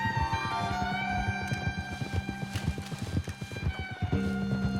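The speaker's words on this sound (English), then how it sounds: "This horse is majestic. And feels kind of slow" Horse hooves clip-clop in Red Dead Redemption 2 as the animal moves at a slow, steady walk. The irregular hoofbeats are fairly close and sit under a background of game music.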